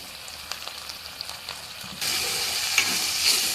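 A paste of ground cumin and coriander frying in oil for hilsa fish biryani, a close steady sizzle with a few soft stirring taps, then a sudden louder, brighter hiss that continues to the end.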